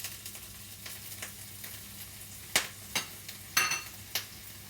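Onion frying in oil in a pan for a steak sandwich gives a soft, steady sizzle, broken by a few sharp scrapes and knocks of a utensil against the pan.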